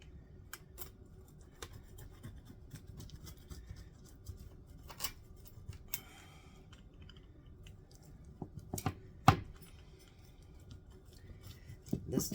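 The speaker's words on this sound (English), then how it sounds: "I'm going to cut us up a slice here" A knife cuts a slice of sausage gravy pizza, giving quiet scraping and crisp crackling crust sounds with a few sharp clicks, close and fairly faint.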